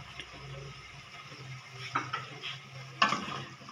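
Tinda (apple gourd) being stirred as it fries in a pan, with a low steady sizzle and a few sharp scraping clinks of the spoon against the metal toward the end.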